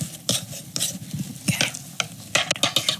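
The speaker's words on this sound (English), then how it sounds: "we're just gonna mash that quinoa up just a little bit" Cooked quinoa is pressed with a potato masher for a vegan nut loaf, giving a rapid series of soft, wet squishing and tapping strokes close by, with no talking.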